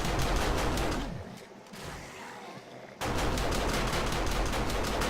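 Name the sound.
automatic turrets firing at zombies, 7 Days to Die video game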